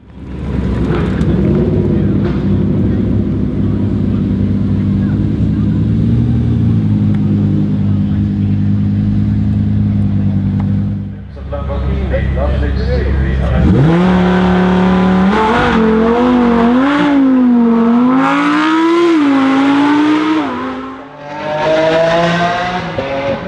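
A 2017 Lamborghini Huracan Performante with a single, wider, high-mounted exhaust idles loudly at the Goodwood Festival of Speed, then revs in repeated sharp rising and falling blips close by.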